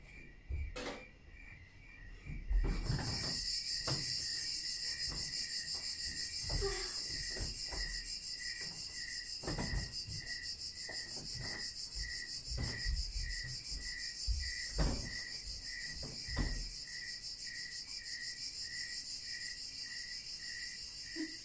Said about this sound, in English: SONG of CICADAS